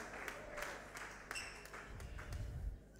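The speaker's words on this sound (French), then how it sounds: "Clap for the Lord." A church congregation claps for the Lord during a prophet's sermon, a dense burst of applause with a few sharper accents and a swelling of crowd noise toward the end.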